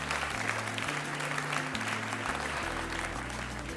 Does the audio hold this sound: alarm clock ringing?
no